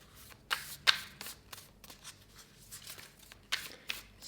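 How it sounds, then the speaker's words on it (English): Oracle cards being shuffled by hand, a series of soft riffling flutters and light card taps at close range, quiet and irregular with no talk. "let's get some oracle cards for you"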